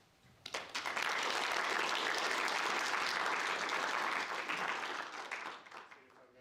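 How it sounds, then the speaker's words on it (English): A conference audience breaks into sustained applause, a dense wash of many hands clapping that swells quickly, holds steady and then tapers off near the end, with no talking over it. "let's welcome with a round of applause Lucas"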